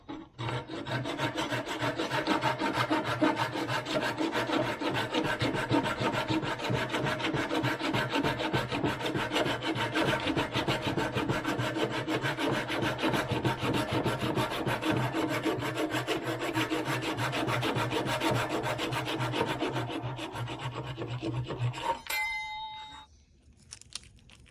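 A small handsaw cuts through wood for a little table, a steady, continuous rasping stroke rhythm filling over twenty seconds up close, then stopping abruptly near the end.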